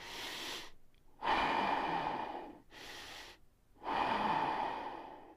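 Breathing through the nose with a constricted throat in ujjayi style, giving a hoarse, hissing Darth Vader-like rush of air: two long, loud exhales alternating with quieter inhales, close and with no talk.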